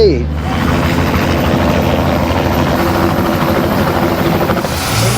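Steady, loud helicopter rotor and engine roar filling the whole clip, continuous and close, with faint voices beneath it, during a flight over the Great Barrier Reef, Australia.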